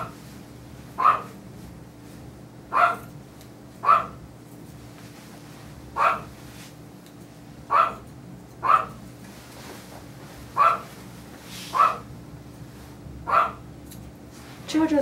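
A dog barks in single sharp yelps, about nine spaced a second or two apart, over a quiet background hum.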